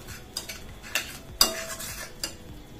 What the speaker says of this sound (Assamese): মই গোটেইখিনি লৰাই দিছোঁ